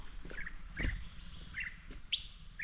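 Small birds chirp in short, bright bursts, several quick tweets spaced across a couple of seconds over a quiet outdoor background.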